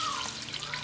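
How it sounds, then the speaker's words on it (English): Milk pours steadily into a pot of ham and potato chowder for a short, continuous liquid splash and gurgle, close and fairly loud, with no talking. "I'm going to pour in about 2 cups of milk."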